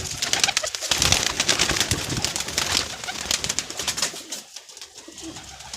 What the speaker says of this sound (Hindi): ये भाई दाना भी डाल रहे हैं कबूतरों को